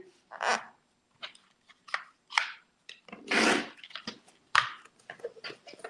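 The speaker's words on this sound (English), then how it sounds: "And then you can use your 60mm rotary cutter to trim that." A 60mm rotary cutter trimming fabric on a quilt: short, separate bursts of dry rasping and rubbing strokes with quiet gaps between them, close by and without speech.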